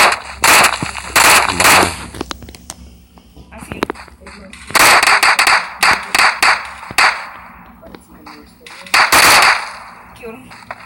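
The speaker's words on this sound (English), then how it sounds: "Oh shit, I'm getting shot." Gunfire in the battle royale game PUBG: bursts of sharp shots in several clusters across the clip, loud and close, with a player talking between them.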